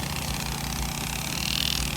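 A brush cutter's small petrol engine runs steadily at a low, even idle throughout, close by and continuous, with no voices.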